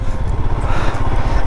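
Steady, close engine thrum of a Himalayan motorcycle on a ride, a loud low pulsing drone with no break.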